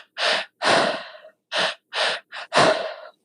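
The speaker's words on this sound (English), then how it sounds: "The breathing pattern is this 3-part breath." Three-part breathwork, two quick inhales followed by one exhale, repeated: six sharp, close, airy breath bursts with short pauses between them and no talking.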